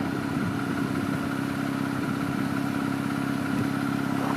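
Exhaust of a 3.6L Jeep Wrangler Rubicon JL with muffler and resonator deleted idles steadily with a low, even rumble and faint clatter, fairly close, with no voices.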